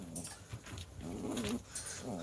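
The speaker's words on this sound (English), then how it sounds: "11 puppies." Litter of eleven puppies heard faintly nearby with soft whimpers, yips and small growls, no talk over them.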